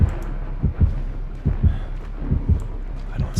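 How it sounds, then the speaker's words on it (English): A slow, deep, thumping heartbeat warns that the killer is nearby in the horror video game Dead By Daylight, its paired beats pulsing steadily under a low rumbling game soundscape. "Now you hear that heartbeat"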